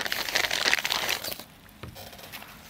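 Blue VCI anti-rust plastic packaging bag around a fuel injector crinkling and rustling up close for about a second and a half, then quieting to a faint handling rustle.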